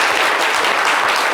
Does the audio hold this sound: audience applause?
yes